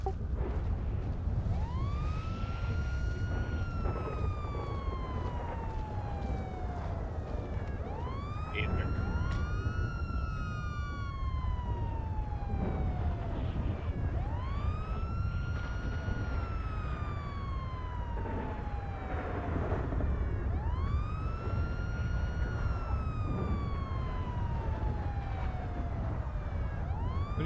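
A police siren in a video game wails continuously, rising and falling in long repeated sweeps, loud and close over a low rumbling background.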